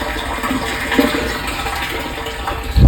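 Water from a borewell pump with a low water level trickles and gushes steadily into a tank, a continuous splashing flow that swells with a louder surge at the very end.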